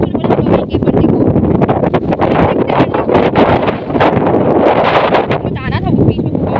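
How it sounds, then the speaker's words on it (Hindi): Strong wind at Razodi beach roars steadily into the microphone, loud, constant buffeting gusts that fill the whole stretch, with voices partly buried underneath. "अभी हवा चल रही है, ठंड भी है"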